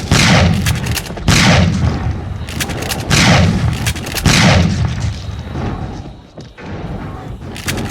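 Gunfire in an audio horror drama: a run of heavy, booming shots in a steady rhythm, loud and close, with dense rumbling noise between them.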